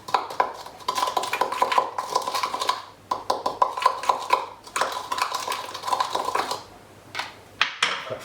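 Kebab burger ingredients are stirred in a metal bowl, producing rapid clinking and scraping of a utensil against the sides in quick bursts with brief pauses.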